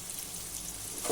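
Soya chunk masala with salt sizzling faintly in a pan, a soft continuous frying hiss that swells slightly at the end.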